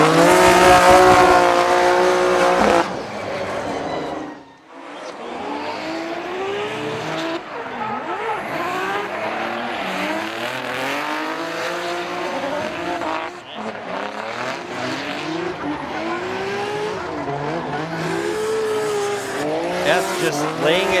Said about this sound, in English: burning tires on the straightaway